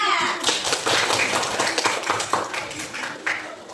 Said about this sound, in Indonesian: Beri tepuk tangan buat Kisnya.